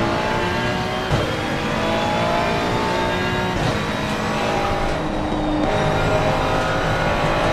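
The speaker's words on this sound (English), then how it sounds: "That downshifting sounds magical." A race car engine in the Assetto Corsa racing game, on the Watkins Glen circuit, revs high and steady, with a few quick downshift blips breaking the continuous loud drone.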